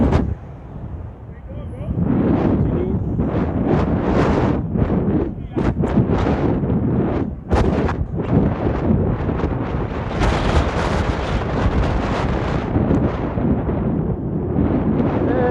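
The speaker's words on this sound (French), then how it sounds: "j'espère que vous allez entendre le vent souffler" Strong wind roars and buffets the microphone during a scooter ride on a city boulevard, loud gusty rushes rising and falling throughout, with someone speaking French over the noise.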